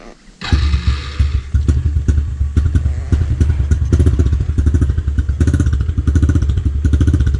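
A dirt bike engine, choke off, thumps to life and idles close and loud with a rapid, uneven single-cylinder chugging that holds steady throughout.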